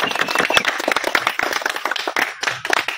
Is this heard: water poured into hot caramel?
no